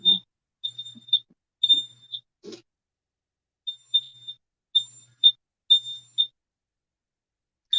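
Kitchen smoke alarm set off while cooking pancakes and mango salsa, sounding repeated loud high-pitched beeps in short clustered bursts with gaps, alone in an otherwise quiet room.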